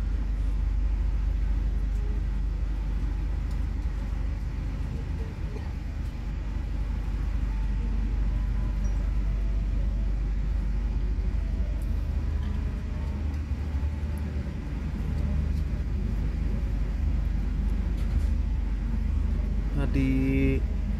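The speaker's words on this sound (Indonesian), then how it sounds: "Tepat waktu jam 13:13 kereta api Progo diberangkatkan kembali dari stasiun Kutoarjo." The Progo economy-class train pulls out of Kutoarjo station with a steady low rumble and rolling noise heard from inside. The rumble holds throughout while a voice talks over it.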